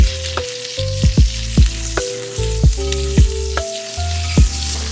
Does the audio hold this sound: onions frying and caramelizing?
yes